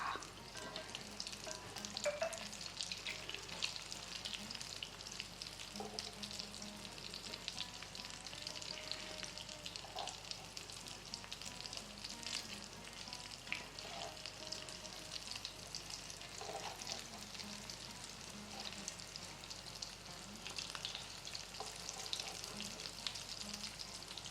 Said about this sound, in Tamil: கொஞ்சம் நல்லா ஃப்ரை ஆகட்டும், அதுக்கப்புறம் நம்ம திருப்பி போடலாம்.